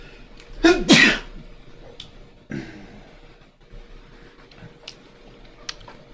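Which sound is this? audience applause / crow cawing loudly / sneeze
sneeze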